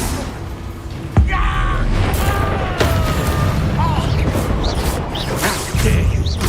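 Bombarda spell explosions in the video game Hogwarts Legacy burst amid loud combat, with sharp booming hits near 1.2 and 2.8 seconds and again around 5.8 seconds, over a dense rumbling battle bed with magical tonal effects.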